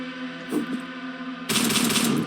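Rapid gunfire from the video game Hellslinger, a couple of quick shots followed by a loud sustained burst of automatic fire that fills the last second, heard alone without talk.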